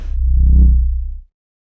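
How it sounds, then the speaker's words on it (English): A single swelling synth bass note from the Cycles plugin by Slate and Ash, deep and gritty with a soft flubby low end, rising then fading out over about a second, heard alone. "this is from a plugin called Cycles by Slate and Ash."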